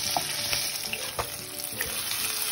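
Koi fish frying in hot oil, a dense continuous crackle and spatter close by, with a few soft clinks as the fried fish are lifted out.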